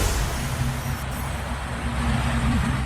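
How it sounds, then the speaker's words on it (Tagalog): Modern jeeps push through rushing floodwater during a sudden heavy downpour in Baguio City, a steady broadband roar of engines, water and traffic filling the whole stretch with a low engine drone underneath and no talk. "Sinuong ng mga modern jeep na yan ang rumaragas ng tubig"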